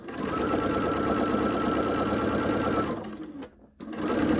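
Sewing machine running steadily while piecing quilt squares, a close, even mechanical hum for most of the stretch, dipping briefly to a near stop before starting again.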